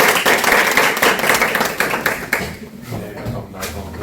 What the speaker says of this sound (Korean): 선생님 강의를 박수로 시작하겠습니다